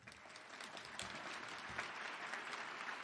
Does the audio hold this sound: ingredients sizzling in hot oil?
no